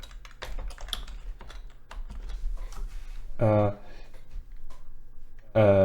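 Code is typed on a computer keyboard in quick, close clicking bursts and scattered keystrokes, while someone speaks intermittently over it.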